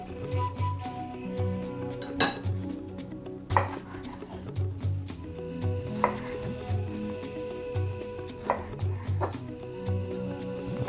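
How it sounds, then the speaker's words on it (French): A knife chops tomatoes into small pieces on a board, sharp irregular knocks spaced a second or two apart, close and fairly quiet, over faint kitchen background. "nous allons commencer par couper ces ingrédients en tout petits morceaux. Voilà, je prends la tomate."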